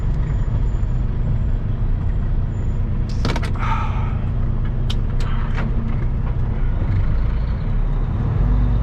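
A truck rolls along New York 36 North with a steady, loud engine and road rumble throughout, plus a brief hiss and a few clanks in the middle.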